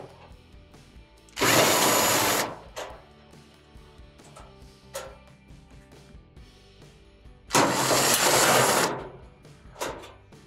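Power driver whirring loudly in two long close bursts as it backs out the top panel screws on an Amana dryer, with small clicks and handling noises in between.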